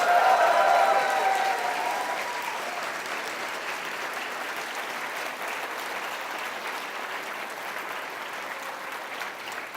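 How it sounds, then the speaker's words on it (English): Audience applause at a closing ceremony, loudest at the start and then settling into steady, sustained clapping from a large crowd, with no speech over it. "Big round of applause for Niall"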